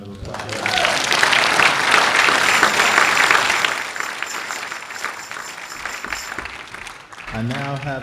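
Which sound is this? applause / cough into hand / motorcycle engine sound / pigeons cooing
applause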